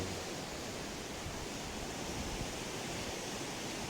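Ocean surf at Sabang island in Aceh, a steady broadband wash of waves, fairly faint and continuous, with no voices.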